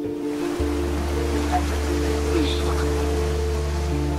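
River water flowing steadily beside the walking path of the Krampus Expedition attraction at Nigloland, a continuous rushing wash overlaid by a low mechanical hum that kicks in early, with no clear talking.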